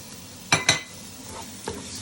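Chopped tomatoes are stirred into a sizzling chicken curry pan, with two quick scraping strokes of a utensil and a softer third one over a faint, steady sizzle.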